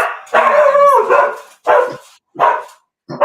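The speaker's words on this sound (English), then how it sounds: "he's making my dog bark too" A dog barking in a series of loud, close yaps and barks with short gaps between them; no talking can be heard.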